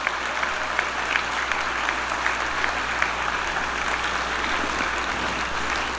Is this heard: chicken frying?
no